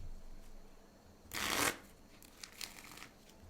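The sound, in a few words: card deck shuffling in Magic: The Gathering Arena video game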